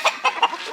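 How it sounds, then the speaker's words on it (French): Chickens at a small rooster fight in Sulawesi, Indonesia, giving three short, close clucking calls in quick succession against light background noise. "petit combat de coq par hasard, en direct"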